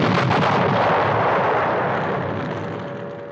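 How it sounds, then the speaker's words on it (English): A big tanker explosion in an animated railway story, a loud booming blast at the start that rolls on as a long rumbling roar and slowly fades out, with no talking. "The explosion from the tanker was big, but thankfully no damage was done."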